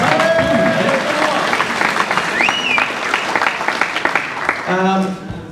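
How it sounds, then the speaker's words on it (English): An audience at a classic Mini car nationals event applauds, a steady crowd clapping with voices, whistles and brief chatter mixed in before the sound thins and fades near the end. "let's give them a round of applause"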